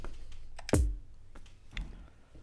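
A single sharp key press on a computer keyboard, close and fairly quiet, with a few fainter clicks around it against a hushed background.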